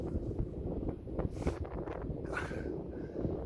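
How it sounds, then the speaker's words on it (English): Wind blowing across a microphone at sea on a fishing trip, a continuous low buffeting rumble with brief gusty swells, close and moderately loud, no voices. "The wind's making the old rod swing a bit."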